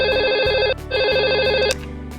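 A telephone bell rings in two loud electronic trills separated by a short gap, with a low hum underneath and no voices.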